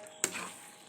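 Chilli chicken is stirred in a hot pan: one sharp scrape of the utensil, then a steady, quieter sizzle and frying crackle.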